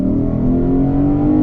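2024 Lexus IS500 V8 engine accelerates with a steady, rising throaty drone heard from inside the car, continuous and fairly loud with no talk.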